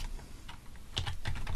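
Typing on a computer keyboard while setting up a Windows 10 web server: a short burst of crisp, close key clicks, a few separate taps followed by a quicker cluster, with no talk.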